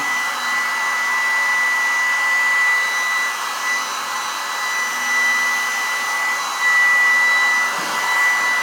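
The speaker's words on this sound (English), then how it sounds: "Great, these little pumps. It's starting to go up already." A small electric pump inflates a Trekology UL80 sleeping mat with a steady, close, continuous whirring drone that barely changes, slightly louder toward the end.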